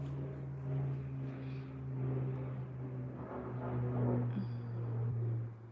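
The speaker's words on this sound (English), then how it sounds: "You guys hear the airplane?" An airplane passes overhead, heard as a steady low drone that swells and fades gently over several seconds behind a quiet indoor room.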